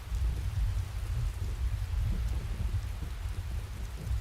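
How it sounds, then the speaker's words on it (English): Heavy rain in Skyrim's Anvil Wabbajack pours steadily, a dense close hiss with deep rumbling undertones, loud and continuous with no voices. "The rain looks really good, actually."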